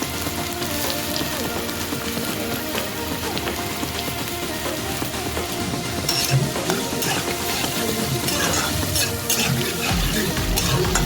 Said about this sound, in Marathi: कढईमध्ये तेल टाकलेलं आहे. तेल गरम झाले खूप. त्याच्यामध्ये कांदा टाकला बघा.